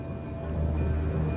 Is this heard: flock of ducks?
no